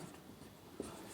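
Soft writing on a board during a class 10 maths lesson, a faint continuous scratchy stroke with a small tap near the end, quiet and close with no speech.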